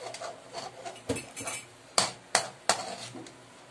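A utensil scrapes and clinks against a pan while thickened homemade gravy is stirred, with several sharp metallic taps over a soft continuous scraping, close and fairly quiet.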